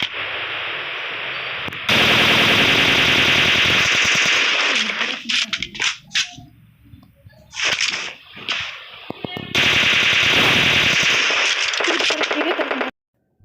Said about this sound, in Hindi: और हम इन बंदों पर फायर करते हैं